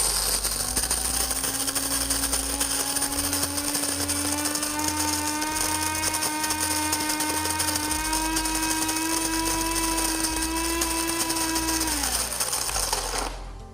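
An electric burr coffee grinder on a medium setting grinds beans with a loud, steady motor whine and gritty crunch for about twelve seconds, then spins down and stops.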